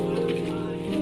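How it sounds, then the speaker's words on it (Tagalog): Rain falling steadily as a dense, even hiss under a constant low hum, brief and continuous. "Umuulan na."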